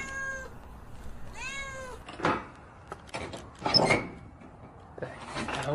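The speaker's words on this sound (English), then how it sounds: "Did I just hear a meow?" A cat meows twice in clear rising-falling cries, followed by knocks and rustling, as if a drawer or door moves nearby, fairly faint overall.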